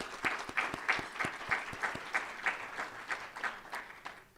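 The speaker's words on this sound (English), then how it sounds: "please join me in giving them a round of applause" An audience at a community civic-participation event applauds volunteers, the clapping steady and moderately quiet with a few sharp, regular claps standing out near the microphone, no talking over it.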